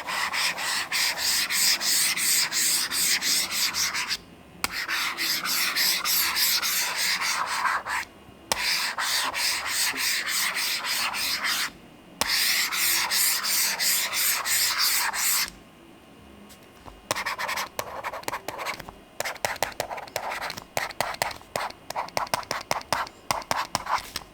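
A ceramic stylus nib scratches across an e-ink tablet screen in long, dry, rasping strokes, close and fairly loud, broken by short pauses and then quicker, choppier scribbles toward the end.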